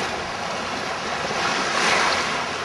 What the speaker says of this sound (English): The waves come in short and frequent. It's relaxing, makes a nice sound.